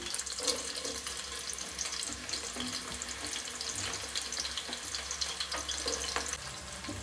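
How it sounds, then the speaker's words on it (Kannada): Onions sizzle steadily in a pan for mutton biryani, a dense continuous crackle at low to moderate level with no talking over it. "ಈರುಳ್ಳಿನ ಆ್ಯಡ್ ಮಾಡ್ತಾ ಇದ್ದೀನಿ"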